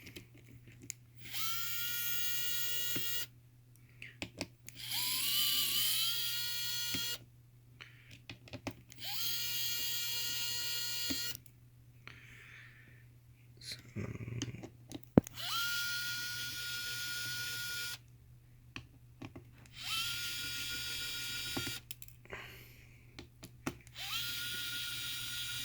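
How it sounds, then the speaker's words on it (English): A powered screwdriver with a T8 bit drives out the six bottom-case screws of a MacBook Air A1466. Several separate high whirring bursts stop and start, each lasting a few seconds, close and fairly quiet, over a steady low hum. "So use a T8 bit. Remove the 6 screws here."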